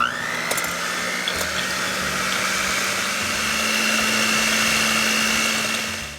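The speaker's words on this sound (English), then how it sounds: "With the help of a hand mixer, I'll mix the egg whites." A hand mixer whips egg whites for a pineapple coconut cake batter, a steady loud electric whirring drone that holds nearly unchanged for several seconds with a faint higher whine, alone without speech.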